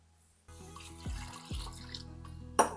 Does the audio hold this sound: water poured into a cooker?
yes